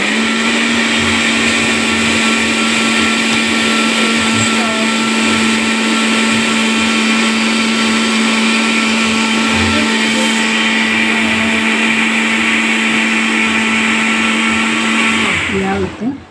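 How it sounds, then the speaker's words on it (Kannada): A mixer grinder whirs loudly and steadily, grinding soaked ragi into batter for neer dosa, a constant high motor whine that runs without pause and cuts off at the end. "ಒರಿದಿನ ರಾಗಿನ ಲೈಕೆ ಪಾಡ್ದು ಮಿಕ್ಸ್ ಮಲ್ತು ಕುಡವಂತೆ ಗ್ರೈಂಡ್ ಮಲ್ಪುಗ"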